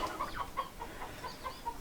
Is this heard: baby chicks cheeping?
yes